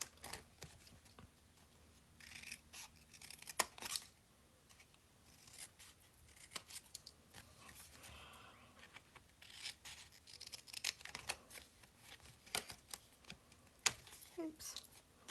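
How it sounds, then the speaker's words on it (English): Scissors snip tiny slivers off the tabs of a paper gift box, producing quiet, scattered crisp cuts and paper rustles that are close but faint. "we're just going to cut a tiny little sliver off"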